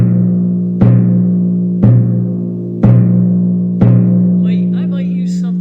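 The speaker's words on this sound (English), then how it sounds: "This is a very soft mallet. It's called a cartwheel mallet." A timpani is struck four times, about a second apart, with a very soft cartwheel mallet, each stroke a warm, rounded boom that rings on and overlaps the next, with brief faint sounds after the last.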